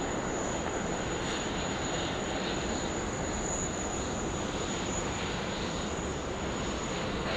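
A fixed-wing airliner takes off from runway 16 right at Sydney Airport, its engines producing a steady, broad roar that holds at a moderate distance throughout.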